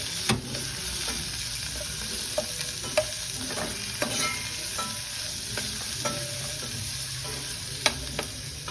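Rampe and curry leaves frying in hot oil for a Sri Lankan dhal tempering, a steady close sizzle broken by regular scraping knocks of a spoon stirring the pan.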